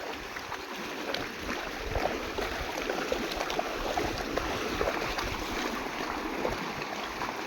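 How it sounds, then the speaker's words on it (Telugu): Floodwater rushes past after a storm, a steady, dense roar of flowing water close by that continues without pause and with no voices over it. "వాటర్ చూడండి ఎలా వస్తున్నాయో."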